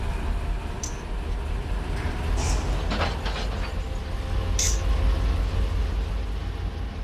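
A locomotive in Run8 Train Simulator, a BNSF line, pulls away under a steady, heavy rumble of engine and rolling stock, with faint higher hisses and clanks drifting in and out.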